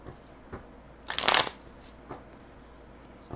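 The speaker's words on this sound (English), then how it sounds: "Just shuffle these a couple more times." A single quick riffle of playing cards being shuffled, a brisk papery flutter lasting about half a second, with a few faint taps around it.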